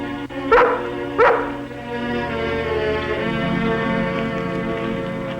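A dog barks twice in quick succession, loud and close, then a steady droning background continues with no further barking.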